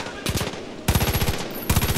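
Three short bursts of rapid automatic gunfire from a Far Cry 5 zombie survival match, loud and close, separated by brief gaps.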